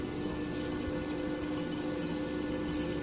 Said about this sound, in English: Now I upgraded the skimmer to the Aquatic Life 115